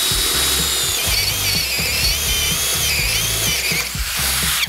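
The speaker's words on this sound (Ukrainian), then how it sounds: "тест, 20-те перове сверло, друга швидкість" A GRAND 16V brushless cordless drill in second gear bores a 20 mm spade bit into wood, its motor whirring steadily under rough, rhythmic chattering and scraping as the bit chews through the material, loud and close.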